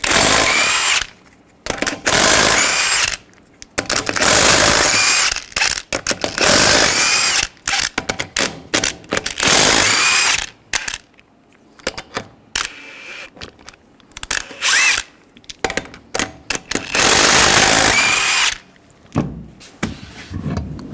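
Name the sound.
power tool removing wheel lug nuts with 22mm socket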